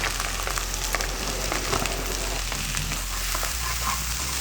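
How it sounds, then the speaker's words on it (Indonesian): Chopped onion and scallion sautéing in hot oil give a dense, continuous sizzle and crackle that stays loud and even throughout, close up with no talking. "kalau minyak udah panas, kita masukin aromatiknya, bawang bombay dan juga daun bawangnya. Kita tumis sampai wangi"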